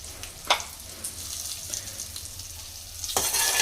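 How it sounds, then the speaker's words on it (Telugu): Chopped garlic frying in a hot pan for a steamed egg curry: a continuous close sizzle with occasional stirring scrapes and a louder hiss rising near the end. "ఇప్పుడు కొంచెం వెల్లుల్లిపాయ వేసుకోవాలి."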